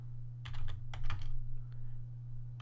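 Keys clatter on a computer keyboard as a command line is typed to rename a system file, two quick bursts of close, crisp clicks over a low steady hum, then quieter taps, no talk.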